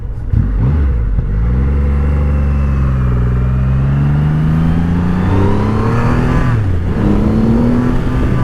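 A loud Triumph Rocket III motorcycle engine revs up and down repeatedly, its pitch climbing and falling close by, with no talking.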